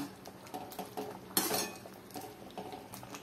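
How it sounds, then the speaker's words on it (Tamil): Ground spice powder stirred into yam masiyal in a cooking pot, with light clinks and scrapes of a spoon against the pot's metal sides, quiet and close, plus a brief louder scrape partway through. "போட்டு எல்லாத்தையும் ஒன்னா நல்லா கலந்து விட்டுக்கலாம்."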